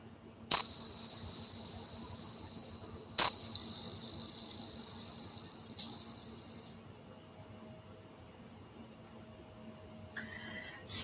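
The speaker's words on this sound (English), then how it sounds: "I'm going to ring the bell." A meditation bell is rung three times at the close of a yoga class, each clear, close strike leaving a long shimmering ring that slowly decays, the last fading out before a faint sound at the end.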